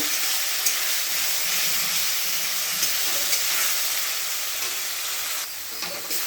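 Green chili, ginger, cumin and garlic paste with onion frying in a pan, a steady close sizzle with occasional stirring scrapes throughout, no voices.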